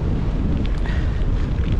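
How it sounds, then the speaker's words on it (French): Strong headwind buffets the microphone of a cyclist riding along the Deûle, giving a loud, constant low rumble with no voices. "Je suis en plein vent de face."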